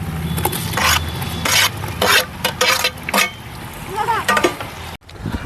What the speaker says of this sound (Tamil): நம்ம இஞ்சி பூண்டு போட்டு அந்த பச்சை வாசனை போனதுக்கப்புறம் அரை கிலோ கட் பண்ணி வச்சுக்கிற தக்காளியை நம்ம சேர்க்க போகிறோம்